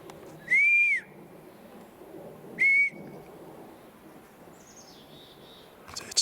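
Two long, high tonal whistles a couple of seconds apart, sounding distant over a quiet outdoor background, with a fainter wavering tone later.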